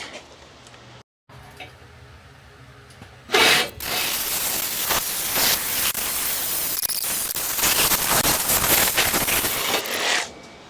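The frame of a 1989 Marmon 57P truck is cut: after a quieter lead-in and a short gap, a loud, harsh, continuous hissing grind runs steadily for about seven seconds and then stops abruptly.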